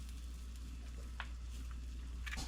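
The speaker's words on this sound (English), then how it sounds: "I'm deep frying brook trout" Brook trout, squirted with lemon and coated in batter, deep frying in hot oil with a steady low crackling sizzle and a few brief sharp pops.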